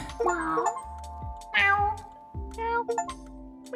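Cartoonish cat meows from the video game Cats Hidden in Paris, a quick series of four or five short chirpy mews in a row, close and clear with gaps between them.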